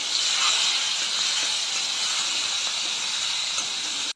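Prawns frying in hot oil with tempering spices in a karahi, a steady loud hiss of sizzling that holds evenly throughout and cuts off abruptly at the very end.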